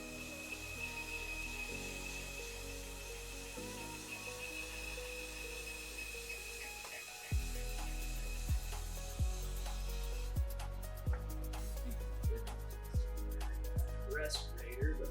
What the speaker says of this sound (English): First impressions of this diamond belt. I'm a little worried by all that dust coming off.